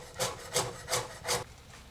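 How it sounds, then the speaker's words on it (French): A knife chops half a bunch of coriander on a cutting board in four evenly spaced, crisp strokes, close and clear with no talking. "J'utilise un demi-bouquet de coriandre que je vais également hacher assez finement."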